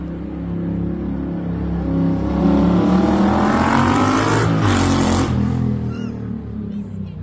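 A tuned quad-carb Yamaha engine revs up, climbing in pitch and loudness to a peak, then drops away and settles, heard close and loud.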